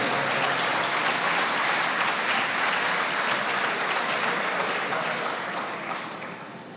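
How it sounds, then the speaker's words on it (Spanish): An audience at a criminal-law lecture welcomes a Supreme Court magistrate to the stage with loud, sustained applause, many hands clapping steadily before the sound tapers off toward the end. "Recibimos en el escenario con un fuerte aplauso"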